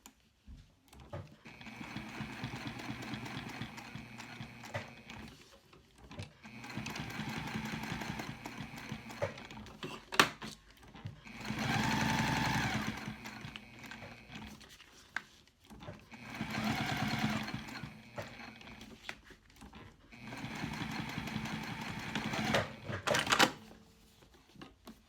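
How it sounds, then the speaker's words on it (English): Sewing machine stitching a leather-style card-slot wallet, a faux card line sewn for continuity; several separate bursts of steady rapid stitching with quiet pauses and handling noises between, close and fairly loud. "you want to make sure that you stitch here as a faux card line"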